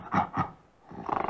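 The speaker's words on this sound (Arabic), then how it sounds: "غوريلا" Gorilla vocalizing with two short grunting hoots followed by a rapid rhythmic pulsing burst, fairly faint and close, with no other sound.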